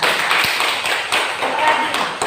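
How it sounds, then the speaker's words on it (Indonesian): Classroom applause for a student's correct answer, a dense patter of many hands clapping close by, steady for a couple of seconds with scattered sharper taps. "tepuk tangan untuk organ"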